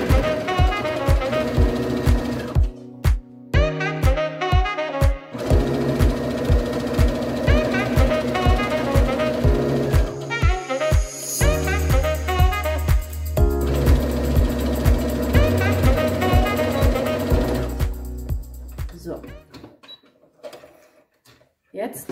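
A sewing machine stitches a scarf into a bread basket, running in loud rapid bursts with brief stops, ending in a few slow stitches and silence.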